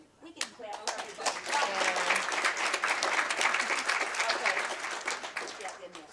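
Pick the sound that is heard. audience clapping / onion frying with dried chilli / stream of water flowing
audience clapping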